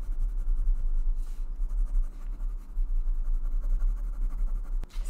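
A marker or pencil traces over lines on paper during a kids' rainbow craft, a soft continuous scratching close up with a low room hum beneath and a sharp tap near the end.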